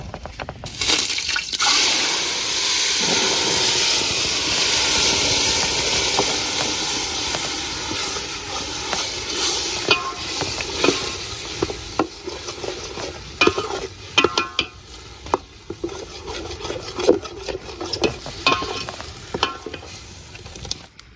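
Tomato and onion gravy hits a hot pan for a village-style peanut bhajiya curry, giving a loud, sustained hissing sizzle that settles into bubbling with repeated close stirring and scraping, with no voices.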